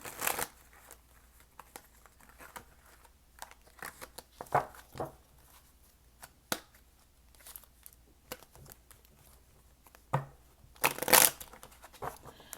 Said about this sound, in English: I know I'm shuffling weird right now